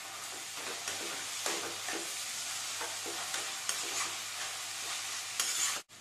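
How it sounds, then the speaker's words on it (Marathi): Onion and moong dal stirred and fried in a pan for a Marathi shepu and methi bhaji, a steady close sizzle with repeated scraping strokes of the spoon throughout. "कांदा आपला छानसा परतवून झाल्यानंतर त्यामध्ये आपण घालणार आहोत मुगाची डाळ"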